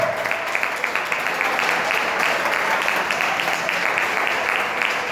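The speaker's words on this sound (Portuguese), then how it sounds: "Pode aplaudir o Senhor, se você quer." A large church congregation claps together in steady, dense applause during worship that fills the room without letting up.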